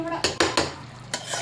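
A spatula scrapes and clanks against a pan while briefly tossing fenugreek leaf curry, with several sharp metallic knocks close by over a soft sizzle and no talk.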